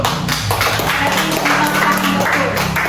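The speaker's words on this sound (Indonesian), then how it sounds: "berbeda-beda tetapi tepuk tangan dulu" Classroom audience of teachers in training clapping together, a dense steady patter of many hands that carries evenly through the whole stretch with some voices mixed in.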